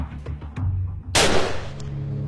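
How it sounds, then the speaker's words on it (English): Gunfire in an urban battle zone in Marawi, with a sudden loud broadband blast and a rumbling decay, preceded by quieter low rumbles and a few sharp distant cracks. "Firing, firing."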